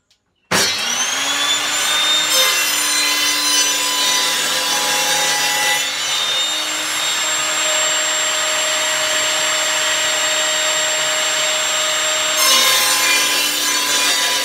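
Wood being cut with a saw to build a mould form for a molten lead solar fountain, a steady close rasping cut running continuously for most of the stretch, with no talking.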